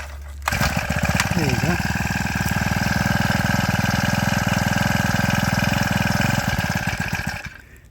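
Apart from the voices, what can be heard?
small petrol engine started by pull cord, then idling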